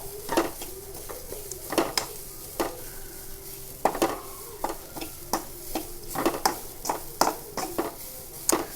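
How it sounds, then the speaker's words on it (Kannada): Grated coconut with turmeric roasting in a pan, a spoon scraping and stirring in repeated sharp clinks and scrapes over a faint sizzle, close and moderately quiet, no talking. "ಅದನ್ನು ಒಳ್ಳೆ ಮಾಡಿ ನಾವು ಇಲ್ಲಿ ಹುರಿತಾ ಇದ್ದೇವೆ."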